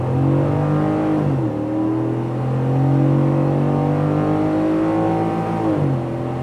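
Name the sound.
pickup truck accelerating from stoplight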